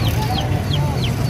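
Chickens and roosters at a Sunday bird market in Shalimar Bagh, with brief clucks and calls rising over a busy murmur of background noise and voices for about a second.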